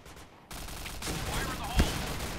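Gunfire bursts in the shooter game Point Blank, a dense rattle of rapid shots starting abruptly after a quieter lead-in, with one sharper heavy hit near the end.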